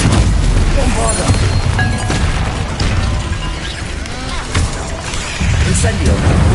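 Bombarda blasting spell in Hogwarts Legacy going off as loud booming explosions with crashing debris, several heavy bursts in quick succession amid game effects.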